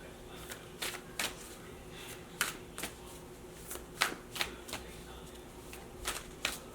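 Tarot-style animal oracle cards are shuffled by hand, giving quick, crisp riffling snaps in irregular bursts close to the mic over faint room noise.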